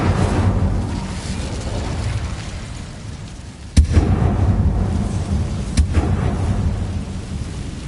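Incendio fire spells in the Hogwarts Legacy video game roar as deep, rumbling blasts of flame, with two sharp bursts striking through a continuous booming roar, loud and close with no talk.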